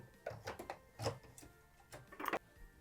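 An embroidery machine stitches panel lines in nude-colored thread onto a small Christmas greenhouse design held in a hoop, giving quiet, rapid mechanical ticking and whirring in short bursts, close by and faint.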